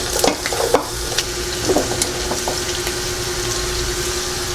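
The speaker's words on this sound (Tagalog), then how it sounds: "Ngayon, magdadagdag na po ako ng mantika, magigisa na po ako." Medium onion sizzling in two tablespoons of hot cooking oil in a pan, a steady frying hiss with occasional crackles and stirring scrapes, close and continuous without talk.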